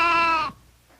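A goat gives one loud, close bleat lasting about half a second, then quiet follows.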